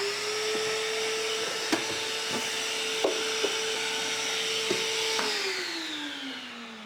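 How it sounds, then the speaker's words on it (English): A vacuum cleaner runs with a steady whine, small debris clicking and rattling up the hose while dust is cleaned from a Harley-Davidson Tri Glide trunk, then the motor winds down at the end. "grab a vacuum and vacuum up some of this dust."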